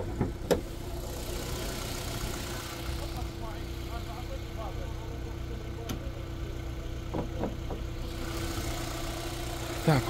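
Car engine idling, a steady low hum running evenly throughout at close range, with a few faint clicks and someone talking over it.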